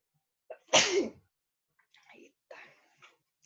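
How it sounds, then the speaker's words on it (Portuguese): A single loud, sharp sneeze bursts out, followed by a few faint murmurs and small sounds. "Nossa, vou espirrar."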